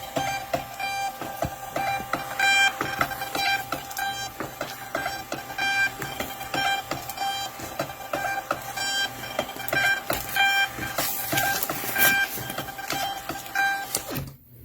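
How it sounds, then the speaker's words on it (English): A Rollo fan-fold label printer printing shipping labels runs steadily with continuous mechanical whirring and rhythmic clicking as it feeds and prints, close by, with no talking. "I'm going to print my labels for the day."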